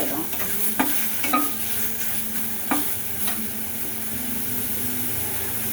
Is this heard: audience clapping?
no